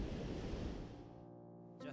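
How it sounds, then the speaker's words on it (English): Large ocean waves break at the Margaret River mouth, a loud, broad wash of surf that rolls steadily and then eases into a softer, hissing fade. "the waves are humongous."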